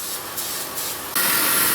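A steady aerosol hiss sprays in bursts around the engine of a Hyundai Santa Fe running lean at idle, then swells into a louder continuous spray near the end, close by with no talking.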